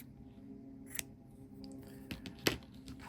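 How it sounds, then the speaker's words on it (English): Scissors snipping a yarn tail during knooking, a few faint close clicks and snips against a quiet room with no talking. "I'm going to pull the cord out and then cut a small tail"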